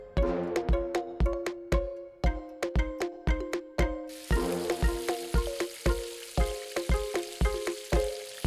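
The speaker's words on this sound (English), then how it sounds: "fry them along with the nuts in a lot of olive oil" Nuts and chopped dried fruits fry in plenty of olive oil, giving a steady close sizzle broken by regular, rhythmic scraping strokes of stirring, with no voices.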